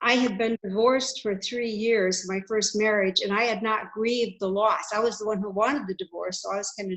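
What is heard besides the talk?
No everyday noises stand out.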